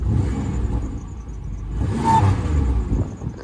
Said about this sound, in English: It accelerates like it's a lemon.